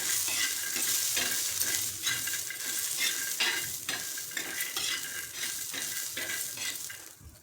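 Green chilies and a generous amount of peanuts roasting together in a pan, with a continuous close sizzle and repeated scraping and stirring from a spatula.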